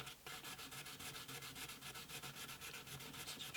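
A cloth pad rubs shellac onto the wooden body of an antique parlour guitar in French polishing, making quick, rhythmic, close swishing strokes that are soft and steady, with no talking.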